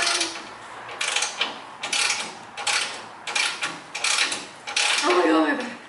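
Repeated bursts of metallic ratcheting, about six short cranks in a row, close and moderately loud, as a wrench loosens stubborn carriage bolts from a Chevrolet Squarebody pickup's bumper.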